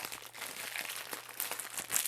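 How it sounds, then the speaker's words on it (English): A plastic bag holding a Civivi knife sheath crinkles and rustles as it is handled, a close, continuous crackly scrunching with small bursts, no voices over it. "the sheath comes in this this plastic bag here"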